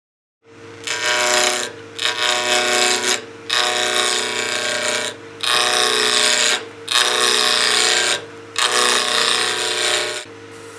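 A wood lathe roughs out a round blank in several long bursts of loud, rough, scraping cutting noise separated by short gaps, close up and with no talking.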